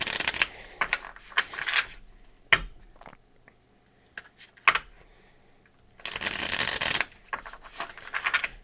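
Tarot deck being shuffled by hand, with bursts of riffling and flicking cards, some taps and sharp clicks, then a longer riffle near the end, close up with no talk.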